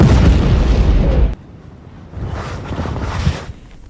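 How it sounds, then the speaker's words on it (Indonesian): A grenade goes off among zombies in a Nazi zombie film, a loud, close, rumbling blast that cuts off abruptly and gives way to quieter rumbling, with no voices. "Liv berhasil meraih granat dan meledakkan mereka semua."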